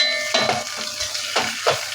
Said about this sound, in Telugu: తిప్పుకోవాలి అడుగంటకుండా